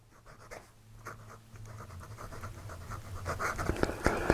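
Fountain pen with a modern nib on a Conklin Crescent Filler writing on paper makes soft, close scratching strokes in quick irregular bursts over a low background hum, growing slightly busier toward the end.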